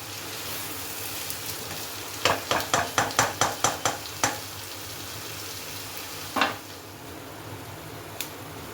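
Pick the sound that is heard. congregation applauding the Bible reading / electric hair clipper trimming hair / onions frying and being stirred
onions frying and being stirred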